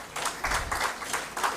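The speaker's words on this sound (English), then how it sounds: "Can we please have a huge round of applause?" A short burst of clapping in repeated pulses, fairly faint and steady, like a modest audience applauding for a couple of seconds.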